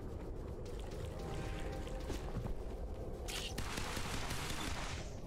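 Plants in the video game Beacon fire at the player in a dense, continuous rattle of gunfire-like shots, with a brighter burst of noise partway through and a steady loud wash throughout.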